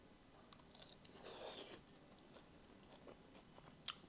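Very quiet crunchy bites and chewing of crispy tangsooyuk pork pancake with a crunch or two heard close by, plus a sharper crackle near the end.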